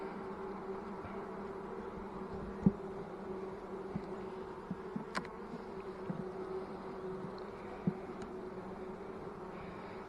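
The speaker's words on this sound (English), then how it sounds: "Bees very gentle, not having to use very much smoke today." Honey bees buzz around an open beehive with a weak, slow-laying queen, a steady low hum filling the air with a few faint clicks and knocks, and no talk.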